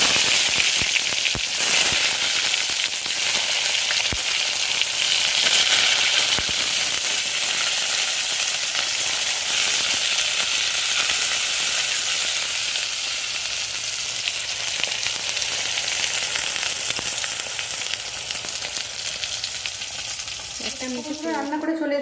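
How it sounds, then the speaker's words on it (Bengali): Eggplant slices fry in hot oil with a steady, dense sizzle and crackle that runs unbroken throughout, a few sharper pops near the start and a brief clatter at the very end. "এবার বেগুনগুলো ভেজে নিই।"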